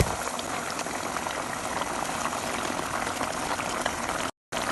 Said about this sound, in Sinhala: ඔන්න දැන් ඔයාලට පේනවා හොඳින් දැන් මම දාගත්තු කිරි ටික උතුරනවා